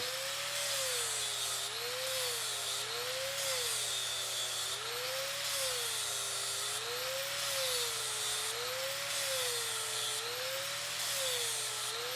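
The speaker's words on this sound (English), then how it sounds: "I'm gonna grind a little more off" A power grinder working down a horse's hoof, a steady high-pitched whirring drone whose pitch wavers up and down in a regular rhythm as pressure on the hoof changes, close and continuous.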